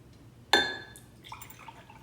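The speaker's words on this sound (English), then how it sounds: "Brianna's gonna add water." Water poured into a glass bowl holding pennies, starting with a sharp splash and clinking onset that fades, followed by faint trickles and a small splash at the end. Quiet indoor setting with no talk.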